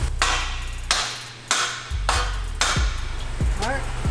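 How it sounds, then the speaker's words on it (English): A rust-seized downpipe on a BMW 335i N54 is struck repeatedly with a hammer, about six sharp metallic clanks at uneven intervals, some followed by brief ringing, with faint talk. "This is kind of stuck with rust, so we're gonna smack it a little bit."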